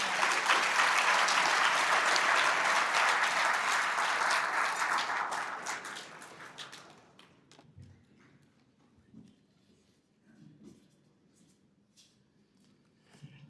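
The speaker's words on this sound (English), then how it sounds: "Let's give them a round of applause." Audience applause at a Hall of Fame induction ceremony for California wrestling, a steady loud clapping from a large crowd for about six seconds that fades away, leaving faint scattered room noise.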